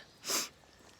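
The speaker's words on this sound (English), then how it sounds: "I gotta sneeze" A single short, sharp sneeze, breathy and fairly close, followed by quiet outdoor air.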